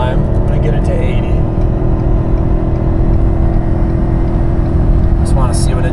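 A Ford F-250 'Godzilla' pickup engine roars at full throttle while towing under load, a loud, steady, unbroken drone throughout with a voice speaking over it.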